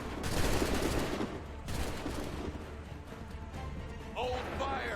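A massed musket volley in Assassin's Creed 3, a loud crackling burst of many shots at once that fades into echoing battlefield rumble, followed by shouted voices.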